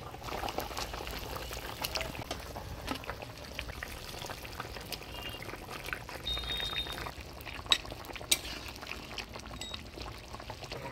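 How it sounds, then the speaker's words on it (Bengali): Fried rohu fish pieces go into a boiling Bengali fish curry, with a steady bubbling simmer and sizzle throughout and a few faint clinks from a utensil, no voices. "ঝোল জাল হয়ে গেছে, এবার ভাজে রাখা মাছগুলো দিয়ে দিই।"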